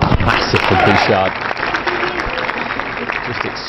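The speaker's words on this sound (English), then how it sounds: "Just extract the ripple of applause from courtside" A ripple of courtside applause from the tennis crowd at a WTA match in Acapulco, steady clapping with a voice talking over the start.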